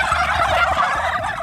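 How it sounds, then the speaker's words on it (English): A large flock of farm turkeys, around 1,400 birds, gobbling together in a dense, continuous chorus that stays loud and steady throughout. "We can only assume this is how turkeys express agreement."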